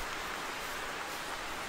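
Steady rain hissing down without a break, loud and close, with no voices present.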